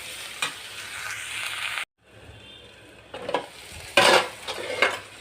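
Snake gourd fries with turmeric in a pan, a close sizzle with utensil clinks and stirring scrapes, briefly dropping out before returning louder with bursts of frying and stirring.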